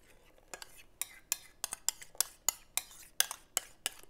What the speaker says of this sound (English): I'm going to give that a little stir and put it into our other liquids